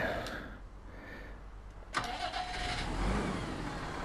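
A tractor engine in Farming Simulator 19 cranks and catches with a sharp onset, then settles into a steady mid-pitched idle rumble, fairly close and loud with no talking over it.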